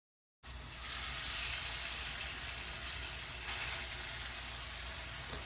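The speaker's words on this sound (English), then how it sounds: "I'm searing this first side. And all I have in the pan is a little grapeseed oil." Blackened catfish sears in a little grapeseed oil in a pan, a loud, broad sizzle starting abruptly from silence and holding as a steady, close frying hiss throughout.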